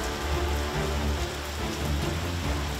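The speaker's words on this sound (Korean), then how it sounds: "빗물에 쓸린 상처가 채 아물기도 전에 또다시 비가 내립니다." Heavy rain pouring onto surfaces in a city neighborhood hit by flooding, a continuous dense hiss with a low rumbling undertone, steady and loud with no voices.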